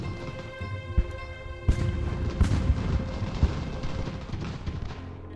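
Cannon and artillery fire from an American Revolution battle in a strategy game, with scattered booms and sharp shots at irregular intervals over a constant battlefield rumble.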